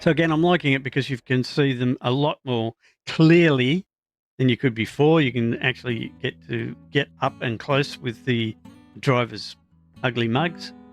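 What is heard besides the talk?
No everyday noises stand out.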